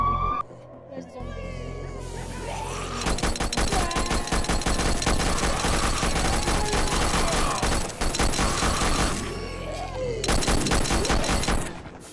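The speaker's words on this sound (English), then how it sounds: "I'm just flying around shooting people." Rapid automatic gunfire fills a VR zombie shooter game, dense bursts of shots running continuously for several seconds after a brief quieter opening, loud and close, with a voice talking over parts of it.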